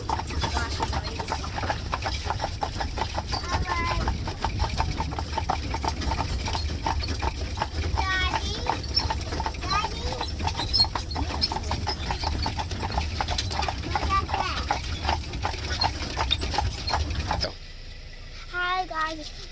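Horse hooves clip-clopping at a steady trot pulling an Amish horse-drawn buggy on a tour in Bird in Hand, Pennsylvania, a brisk continuous rhythm close by over road noise, with people chatting, until the hoofbeats stop near the end.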